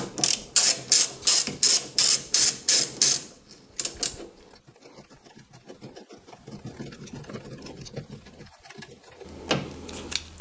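A ratchet fitted with a 10 mm socket loosens a small screw on a BMW M2 Competition, first in a run of about ten loud, evenly spaced clicking strokes, then softer scattered clicks and light handling noise.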